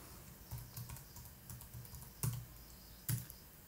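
Soft keystrokes patter on a computer keyboard as a formula is typed, quiet and close, with two louder key presses standing out near the end.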